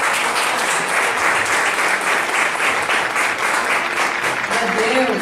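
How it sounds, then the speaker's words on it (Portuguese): A church congregation applauds continuously, a steady hiss of many hands clapping at moderate loudness, with a faint voice near the end. "receba o servo do Senhor com as palmas para Jesus"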